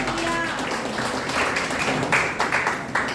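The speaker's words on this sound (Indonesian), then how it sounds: "Beri tepuk tangan bagi Tuhan." A church congregation claps for God during a worship service, a dense, steady patter of many hands filling the room at moderate volume with a brief sustained musical tone early on.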